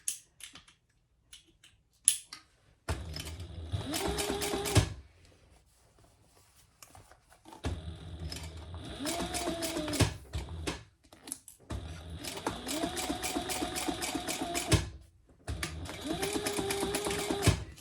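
A sewing machine back stitching a fabric notebook cover: quiet, rapid mechanical chattering in several bursts of a few seconds each, separated by pauses with small clicks and handling noises.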